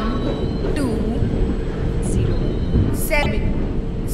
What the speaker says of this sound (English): 1207 Shatabdi Superfast Express is arriving at platform number 2